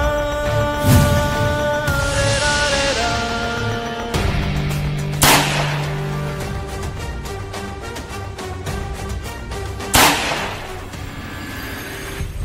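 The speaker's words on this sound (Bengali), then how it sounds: "গুলির আওয়াজ মনে হলো না?" Gunshot-like sharp bangs from a Bengali TV serial scene, several loud broadband hits spread across the clip over background music with sustained tones, no talking.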